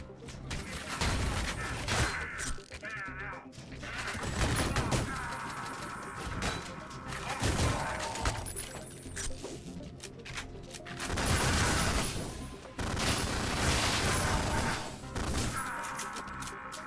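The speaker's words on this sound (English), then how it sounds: "The SMG is called the Penetrator, by the way, because of course it is." An SMG called the Penetrator fires in a video game in rapid bursts, with crashes and impacts mixed into a dense, busy game soundscape.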